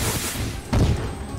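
Minecraft fireworks go off in the sky on a bonfire night celebration, a muffled burst of crackling booms over steady background noise, with one stronger thumping explosion midway through.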